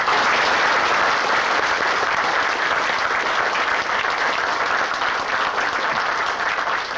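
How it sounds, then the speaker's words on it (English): Loud, dense clapping from an audience at an evening talk by a World War II veteran, steady and continuous for about seven seconds with no speech over it. "Let's give him a nice round of applause."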